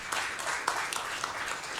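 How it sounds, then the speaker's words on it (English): Applause from an audience at a Tucson school district governing board meeting after a high school choir performance, with a steady patter of clapping from a modest crowd, fairly close and even. "give them a round of applause"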